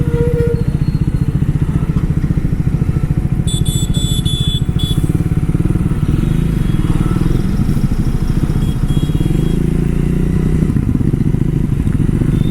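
A Triumph Thruxton 400 motorcycle rides through city traffic, its engine a loud, steady rumble throughout with wind buffeting and a brief clatter partway through.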